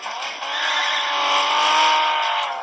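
A car skids through a handbrake U-turn in the film Fast Five. A loud, sustained tire squeal holds for over two seconds, swelling slightly, with engine noise beneath it.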